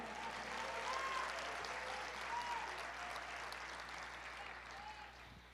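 A church congregation claps in a broad, even wash of applause that carries on at moderate volume, with faint voices and cheers mixed in underneath.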